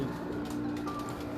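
A pigeon in a breeder's loft coos in low, throaty rolling tones, close by and continuous, with faint chirps and background noise around it.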